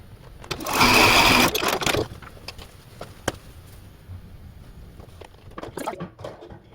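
A sewing machine stitching quilt pieces runs in a short, fast, rattling burst of about a second, followed by quiet handling, taps and rustles of fabric nearby.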